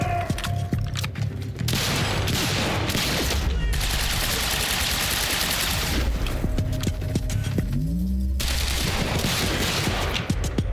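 Gunfire in the video game Quantum Break: dense, continuous bursts of shots and impacts filling the scene at steady loudness, with a brief whooshing effect partway through.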